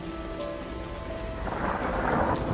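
Heavy rain pours steadily with rumbling thunder underneath, growing louder and denser partway through, with no voices present.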